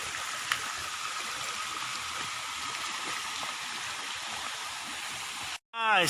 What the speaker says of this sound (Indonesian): Guys, air terjun Kuripan atau Curug Kuripan.